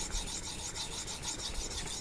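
Convex-ground knife drawn across a Naniwa diamond whetstone under firm pressure while raising a burr, a steady close gritty rasping scrape with faint rhythmic strokes and no voices.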